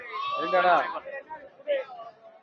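Goats bleat at a Friday livestock market in Ettayapuram, Thoothukudi district, Tamil Nadu: a few wavering, nasal cries rise close by amid a busy background of people talking.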